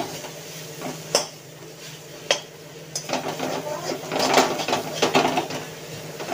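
Fish masala is stirred and fried in a pan for a Bengali katla fish dish. A spoon clinks sharply against the pan a few times, then a continuous sizzling and scraping builds and carries on, close and fairly loud.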